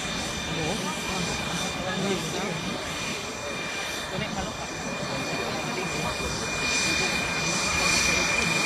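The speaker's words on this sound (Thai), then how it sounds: "นักบินก็จะไปขึ้นเครื่องนะครับเพื่อทำการเซ็ตเครื่องยนต์" A military airplane engine starting at an air base: a steady, loud roar holds throughout, a constant whine over broad rumble, swelling slightly toward the end.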